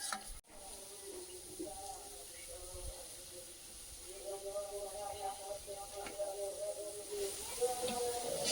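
Onion and garlic hit hot oil in a pan, producing a soft, continuous hiss that swells slightly toward the end while a voice is heard faintly in the background.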